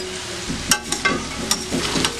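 Cabbage and mixed vegetables are stirred in a pan, with soft scraping strokes over a steady low frying sizzle, close and without talk.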